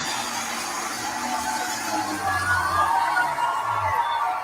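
A crowd at a hometown fair tractor pull cheers and whoops loudly and steadily, with shouts rising and falling and a low engine rumble underneath, as the final pass of an 85-year-old puller ends in a win.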